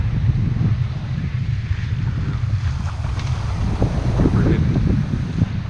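Wind blows at about 15 to 18 knots across a sailboat at sea in 4-foot waves, a constant low rumbling roar of wind on the microphone mixed with rushing water.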